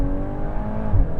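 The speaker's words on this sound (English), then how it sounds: "hearing the downshifts here in this race mode is quite satisfying" A 2026 VW Golf R in race mode downshifts hard, the engine note rising and falling in a loud, close, rough growl with a brief throttle blip near the end.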